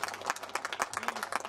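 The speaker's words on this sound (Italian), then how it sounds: "un applauso più forte, vogliamo sentire" An audience claps for a singer at a song contest, a dense, steady patter of many hands that runs for the whole moment at moderate distance. No voices are heard.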